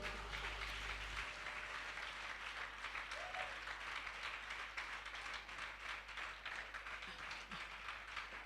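Church congregation applauding during a worship service: a soft, continuous patter of many hands clapping, heard from a distance at a steady level and ending with a faint knock.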